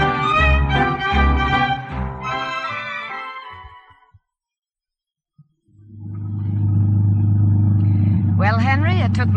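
A car engine starts and runs as a sound effect in the old radio drama Sorry, Wrong Number, a deep steady rumble rising after a brief silence, with people talking over the start.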